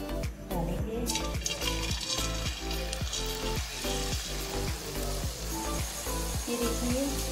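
Paneer jalebi batter frying in hot oil, giving a dense, continuous sizzle and crackle. A steady low hum runs underneath, with irregular knocks and clinks from a utensil, close by and with no talk.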